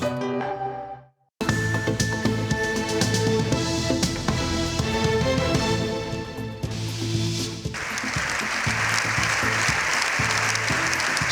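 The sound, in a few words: applause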